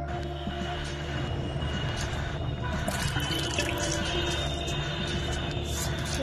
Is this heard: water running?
yes